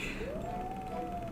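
Upset house cat letting out a single drawn-out, rising-then-falling meow of moderate loudness, heard alone over a quiet background with no talk.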